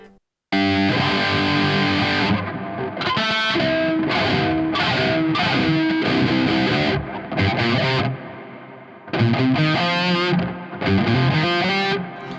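Heavily distorted electric guitar plays chugging riffs and sustained chords, with short bursts separated by brief gaps and a reverberant tail.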